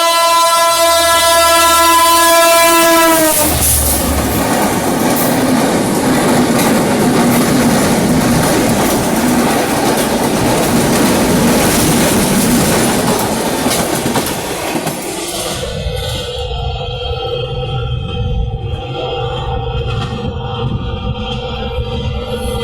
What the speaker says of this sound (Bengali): তার মানে ট্রেন আসছে।